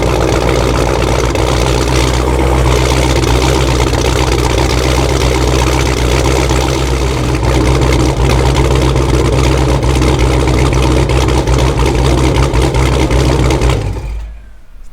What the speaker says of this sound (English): Let me give you a cold start.